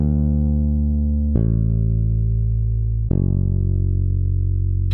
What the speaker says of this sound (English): This is called Scarby pre-bass.